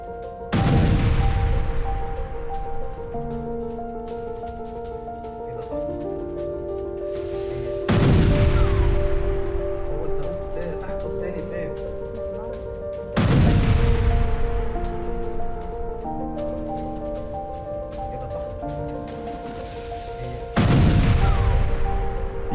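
Four loud, sharp explosion blasts in news footage of an attack in Gaza strike at regular intervals, each leaving a long rumbling decay with a steady hum underneath; no voices.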